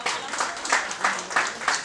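Audience applause at a press conference for an album release, a brief burst of moderately loud, rhythmic clapping from a small crowd.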